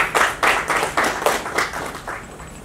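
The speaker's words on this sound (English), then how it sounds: "once again, a big round of applause for We." An audience at the Uprise GRROW event claps in a steady, rhythmic pattern, each distinct beat of hands landing close and clear before the sound eases off near the end.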